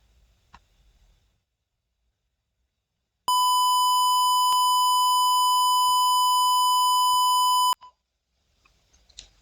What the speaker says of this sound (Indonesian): buzzer ini akan langsung berbunyi, mengeluarkan frekuensi alarm peringatan